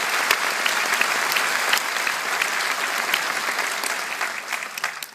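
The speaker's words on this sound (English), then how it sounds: "give the band a round of applause to thank them" Audience applause at a citizenship oath-taking ceremony in Dublin, clapping steadily for an army band. The dense, even applause runs for about five seconds and fades slightly toward the end, with no speech over it.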